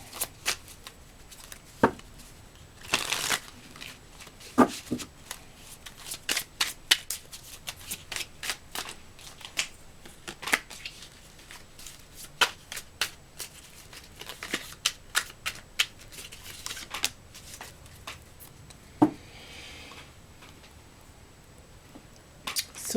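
Tarot cards being shuffled and drawn, a long run of crisp riffling bursts and soft slaps in uneven rhythm, close and fairly quiet, with no talk.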